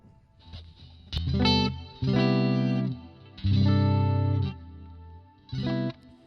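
A clean guitar tone through a Fender Tone Master Pro strums several chords, each ringing out briefly with a reverb tail, its decay shortened, that dies away fairly quickly, separated by short pauses.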